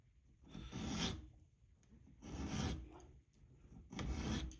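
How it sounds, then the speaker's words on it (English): A round chainsaw file is worked over a small metal part for a hit-and-miss engine governor, giving three long, close, steady rasping strokes with short pauses between them. "I use a chainsaw file."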